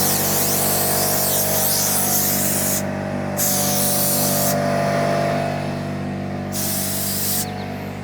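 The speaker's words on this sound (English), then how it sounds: "we're actually going to do a little bit of spray foam" Closed-cell spray foam insulation being sprayed during a DIY window installation, a loud continuous hiss of the spray gun that cuts in and out in several bursts over a steady compressor-like drone.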